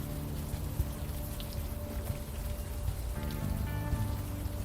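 Steady, dense rain falls throughout a scene in the video game Unavowed, a constant hiss with low background hum and faint tonal music lines, and no voices.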